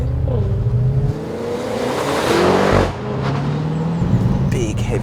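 A Vauxhall VXR8 accelerates from inside the cabin with a loud engine roar and a rising supercharger whine, and a gear change is heard midway.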